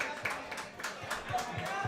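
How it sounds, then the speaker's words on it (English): Crowd clapping for a high school boys lacrosse team in a packed indoor space, a short burst of scattered hand claps with voices mixed in. "Please give the team a round of applause here in 2025."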